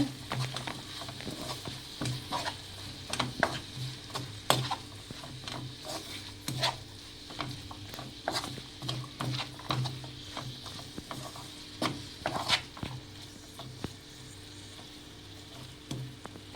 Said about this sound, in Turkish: Semizotlarından sonra baharatlarımı, tuzumu atıyorum. Karıştırıyorum güzelce.